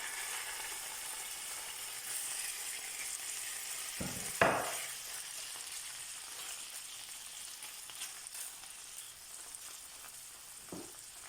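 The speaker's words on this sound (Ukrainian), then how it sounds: "Тепер на великому вогні обжарюємо куряче філе і солимо та перчимо за смаком." Steady sizzling and crackling of chicken fillet frying in a pan over high heat, with a couple of brief clanks from stirring partway through.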